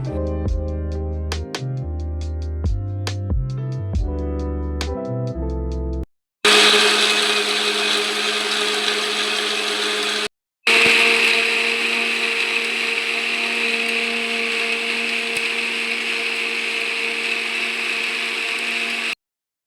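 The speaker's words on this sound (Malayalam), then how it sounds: "അതിനുശേഷം നമ്മളിതാ മിക്സിയുടെ ജാറിലിട്ട് നല്ല പോലെ അടിച്ചെടുക്കുക" Mixer grinder blending warm cooked grapes into jam, a steady loud motor whir with brief stops between runs, preceded by a few seconds of music.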